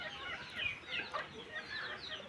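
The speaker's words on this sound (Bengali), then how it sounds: "আর এই হচ্ছে আমার শখের মুরগিগুলো" Backyard chickens cluck nearby in a home courtyard in Dhaka, in short, repeated bursts, several birds calling over a quiet background.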